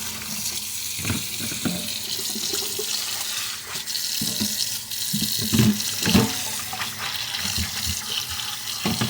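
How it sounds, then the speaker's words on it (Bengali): Tap water runs into a sink while Malabar spinach leaves are washed, a steady close splashing stream with intermittent knocks and sloshes as the leaves are handled. "শাকগুলোকে ধুয়ে নিচ্ছি তারপরে কাটবো"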